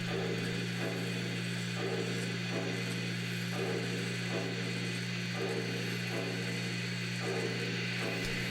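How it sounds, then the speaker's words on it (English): 28-inch Bowser model railroad turntable rotating in a layout's yard: a steady electric motor hum with a regular clicking gear rhythm repeating about once a second, close and even. "The 28-inch Bowser turntable is fully operational."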